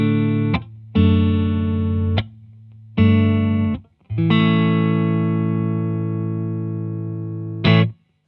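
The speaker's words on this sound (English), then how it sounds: "this is gonna take you from a regular single coil sound like this" Electric guitar on a single coil pickup: several sustained ringing chords struck one after another with short gaps, a longer chord held and decaying, then a final brief strum, loud and close with no talk.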